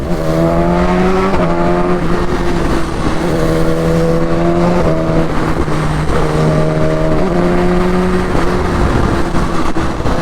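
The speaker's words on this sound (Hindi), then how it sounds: "भाई हायाबुसा तो ऐसे निकल रही है, निकल गई हायाबुसा" A Suzuki Hayabusa motorcycle in a drag race against a BMW roars steadily and loudly as it accelerates. Its engine pitch climbs through several gear shifts over continuous road and wind noise, heard from up close.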